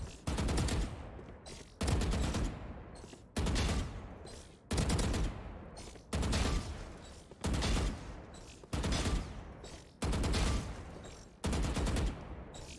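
Bursts of rifle fire from the shooter Valorant come as about nine sharp volleys of rapid shots, evenly spaced and loud and close, with no talking over them.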